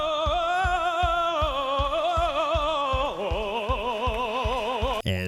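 Music from the score of the musical Natasha, Pierre and the Great Comet of 1812: a steady pulsing low beat under warbling, wavering sustained tones that shift pitch midway, with no voices.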